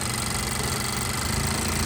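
A Honda Accord engine idles with a steady, close, continuous rumble and faint mechanical vibration, unchanging in level with no talking over it.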